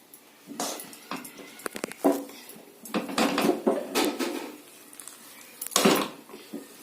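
Boiled rice flour is being stirred into a stiff dough in a pot, giving irregular scraping knocks and clatters of a spoon against metal, close and uneven with brief pauses.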